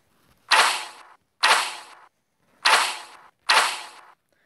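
A crossbow from a guns mod for Minecraft PE fires four times in a video game. Each shot is a sharp, whooshing burst with a short tail, evenly spaced and loud, with no talk.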